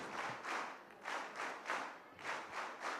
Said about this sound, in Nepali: Scout scout Tali.